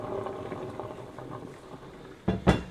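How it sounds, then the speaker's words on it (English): Hot pasta water poured from a pot into a kitchen sink gives a low gurgling, splashing wash, ending in two sharper bursts of sloshing near the end; no talking. "we're going to pour this in to the sink."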